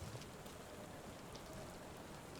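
Faint, steady rainfall in the game Sherlock Holmes: The Awakened, an even hiss of drops on hard surfaces with no pauses or voices over the short stretch.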